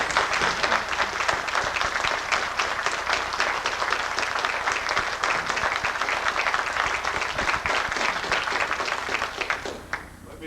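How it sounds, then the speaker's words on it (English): A hall audience at a mock space law trial breaks into a sustained round of applause, dense and steady for about ten seconds before thinning out at the very end. "I would like to make a motion, Your Honor, that we give a round of applause to the author."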